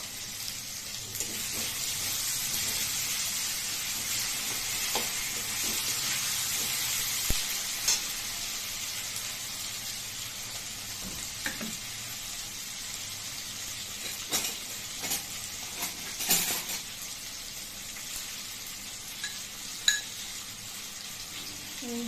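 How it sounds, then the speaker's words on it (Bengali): Potatoes frying in a pan, a low steady sizzle running the whole time with scattered stirring scrapes and occasional faint clinks, close but quiet, no voices. "একটু আলুটা ভাজা ভাজা হোক।"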